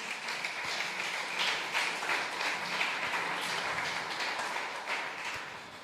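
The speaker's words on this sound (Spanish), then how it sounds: "¿Cuántos pueden darle un aplauso al Señor?" A church congregation claps together in sustained, dense applause that holds at an even level for several seconds, with no voices standing out.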